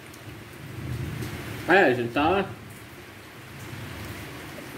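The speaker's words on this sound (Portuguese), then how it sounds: "Tá chovendo muito." Heavy rain falls steadily in a constant hiss, while someone speaks briefly over it in the middle.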